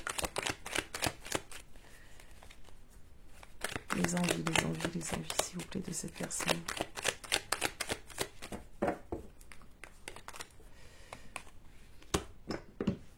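Tarot cards being shuffled and laid out, with rapid riffling bursts, card slaps and quick flicks in irregular runs, close by, under someone speaking French.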